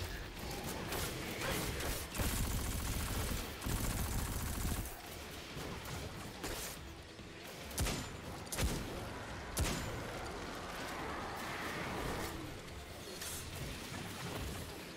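A weapon fires in Destiny 2 over steady mechanical clatter. Loud, sharp shots come in bursts and single cracks across fifteen seconds of busy game noise.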